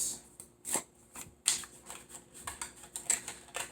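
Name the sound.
shuffling tarot cards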